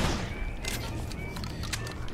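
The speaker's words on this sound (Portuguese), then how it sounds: "Zumbi dando tiro." Gunfire in the zombie shooter Guns, Gore & Cannoli: a dense, continuous wash of loud shots and crackle, with a few sharper bursts standing out over the constant game noise.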